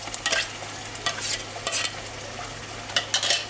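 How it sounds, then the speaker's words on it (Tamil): Ground masala paste for chicken green curry being stirred and sautéed in hot sesame oil: repeated scraping spoon strokes at an uneven pace over a soft, steady sizzle and low background hum, close by with no voices. "இதை நல்லா நம்ம வந்து கொஞ்சம் நேரம் வதக்க போகிறோம்."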